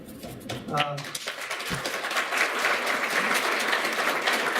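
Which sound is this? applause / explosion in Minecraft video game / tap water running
applause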